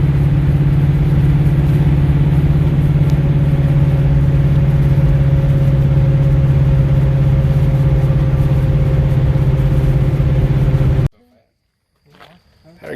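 A two-valve car fitted with nitrous idles steadily and loud for about eleven seconds, a low rumbling drone with a slightly lumpy beat, then cuts off abruptly to near silence with faint sounds after.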